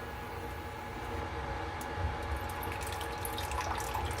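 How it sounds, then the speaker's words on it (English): A small amount of water poured into a cooking pot, a soft, steady trickling splash with faint drips that builds slightly near the end, alone without talk. "Let me go ahead and add a little bit, just a tad bit of water."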